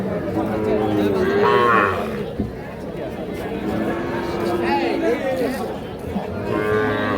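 A Sahiwal bull calf moos several times at a busy cattle market, drawn-out calls rising over constant crowd chatter and people talking nearby.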